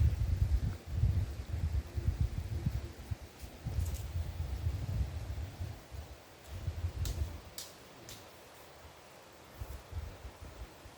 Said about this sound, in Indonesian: Suara air sungai terdengar dari sini.